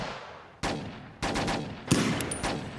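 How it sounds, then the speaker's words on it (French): Gunfire aimed at police officers: three loud, sharp bursts of shots arrive at irregular intervals, each with a ringing tail, over a rough background of noise. "je crois que c'est des flics sur qui on tire"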